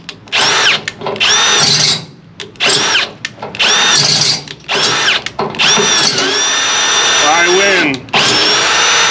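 A power drill bores out a bolt hole on a 1994 OBS truck, running in loud repeated bursts with whining rises and falls and brief pauses between them, with a voice heard faintly at one point.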